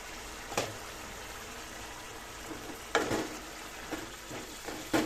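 Potato, cauliflower and paneer curry cooks in a pan, giving a soft, continuous low sizzle with a few louder pops and spatters breaking through.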